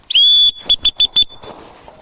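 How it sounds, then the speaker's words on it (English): A loud, sharp blast from a dog training whistle followed by four quick short toots in a rhythmic pattern, close and piercing, then quiet. "when he hears the whistle"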